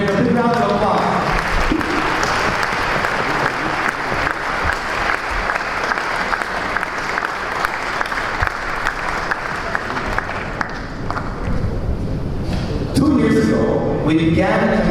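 A large gathering at a Chabad decade celebration gives a long, loud round of applause, dense overlapping claps running throughout with crowd noise and voices coming in near the end.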